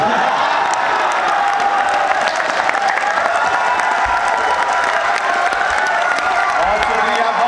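A large audience in a university hall applauds and cheers after a comic poetry recital, dense sustained clapping with scattered shouts filling the space throughout.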